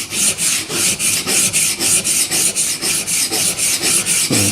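A steel chisel is pushed back and forth across a 140 grit flattening plate in a steady rhythmic rasp, about four strokes per second, loud and close, with no voices.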